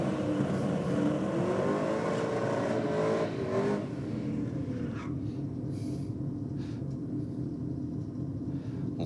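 Holden VH Commodore drag car launching at a drag strip, a loud roaring engine climbing in pitch through the gears before easing off and fading into a lower rumble as it moves away.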